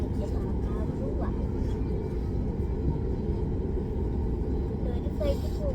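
An airplane passes overhead near a Delhi airport with a steady low roar that stays level throughout, and people talk over it.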